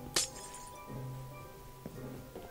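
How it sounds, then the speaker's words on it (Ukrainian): A block breaking in Minecraft gives a sharp glassy crack near the start, followed by a couple of fainter clicks over a low steady game background. "у нас є блок, я його розбив"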